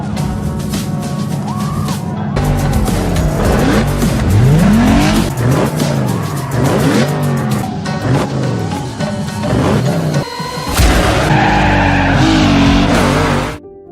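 Loud race cars roar past at speed, engines revving up and down, with repeated tire squeals and skids throughout.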